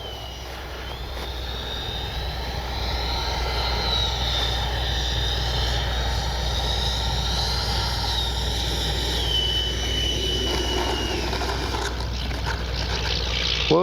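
An FMS 80mm F-86 Sabre RC jet flies overhead with a steady, moderate ducted-fan whine, holding constant with a slight swell.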